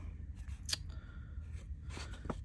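Scissors snip through cardstock and pattern paper for a baby mini album base, giving a few short, soft cuts close to the microphone in a quiet room.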